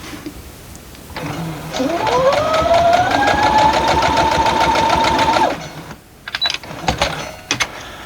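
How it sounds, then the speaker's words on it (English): A sewing machine stitches Pressed Flowers quilt block pieces together, its steady motor whine and rapid needle clatter running close and loud for about four seconds before stopping, followed by a few light handling clicks. "we sew these two together"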